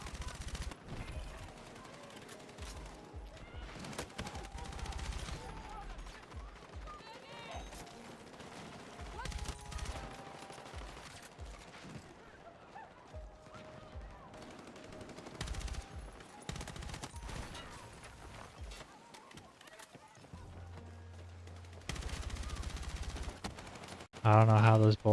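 Gunfire in the Battlefield 6 video game rattles on and off in bursts of rapid shots mixed with game effects over about 25 seconds, some close and loud, with speech and other game noise around it.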